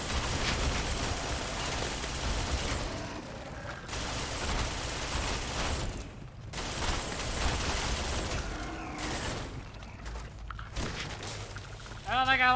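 Weapon fire in the video game Starfield, dense bursts of gunfire and impacts running almost throughout at loud level, with people talking over it.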